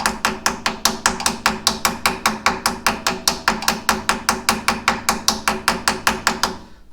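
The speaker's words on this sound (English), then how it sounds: "And again, you can take your weight hammer." A weight hammer taps repeatedly on a tire mounted on a Chinese tire machine, about thirty-five quick, even, ringing knocks in a steady rhythm, close and fairly loud, with no talking.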